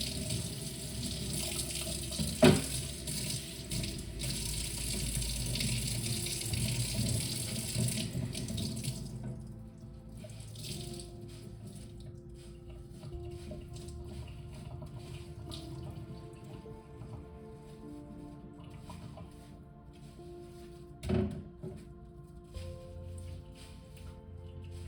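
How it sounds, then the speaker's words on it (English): Water runs steadily from a kitchen tap while a knife is washed under it, a loud continuous gush for about nine seconds, then quieter clinks, drips and handling noises in the sink with one sharp knock. "let me just wash my knife really quick"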